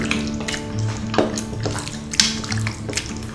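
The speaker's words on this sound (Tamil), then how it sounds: "இஞ்சி பூண்டு இதெல்லாம் எல்லாம் ஒன்றா இது நல்லா மிக்ஸ் ஆகணும்." Raw mutton is mixed by hand with ginger garlic paste: a steady wet squelching and stirring with soft clicks and scrapes against the bowl, close and continuous, with no one talking.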